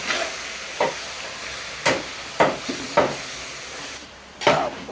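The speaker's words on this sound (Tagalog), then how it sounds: "malubay siyang haluin pag mainit na mainit ang kawali" Pork being stirred in a very hot pan while cooking a whole pig for a Filipino fiesta, six or seven scraping stirs at uneven intervals over a steady sizzle, close and fairly loud, with no voices.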